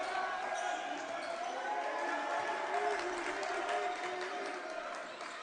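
A Thursday evening college basketball crowd at Vanguard University fills the gym with a steady murmur, ball bounces and sneaker noise underneath, while a commentator talks over the scene.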